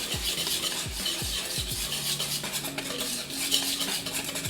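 A whisk clatters rapidly against a bowl of batter, steady scraping and tapping strokes close up, with faint low thuds at the start and no voices.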